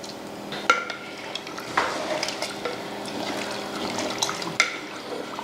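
Soft swishing and sloshing of water and rice being stirred in a pot for chicken biryani, with a few light metallic knocks.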